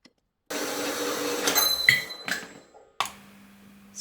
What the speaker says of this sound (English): the angle grinder to go ahead and cut this